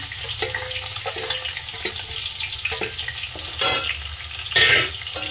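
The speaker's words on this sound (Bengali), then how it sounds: "হালকা একটু ভেজে নেব" Chopped ginger and green chili fry in hot oil with cumin seeds for a paneer dish. They sizzle steadily as a utensil stirs and scrapes the pan, with two brief louder spatters near the end.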